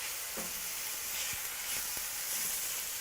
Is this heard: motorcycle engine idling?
no